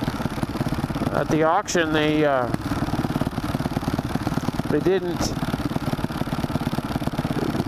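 A 2003 Buell Blast motorcycle engine idles steadily with a makeshift baling-wired muffler, a loud continuous low rumble throughout, while a person speaks briefly over it.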